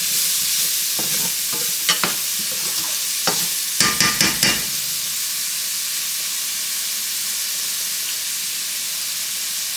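Chopped onions cook down in oil in a pan, giving a steady soft sizzle with a few sharp stirring scrapes and clinks clustered mid-way. No one talks.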